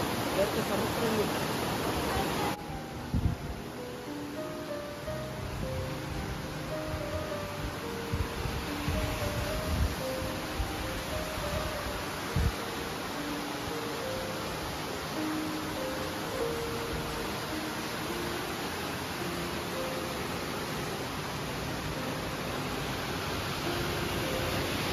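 Water flows steadily at the Seetha Devi temple in Nuwara Eliya, a constant soft rushing hiss that runs through the whole stretch while a person talks over it.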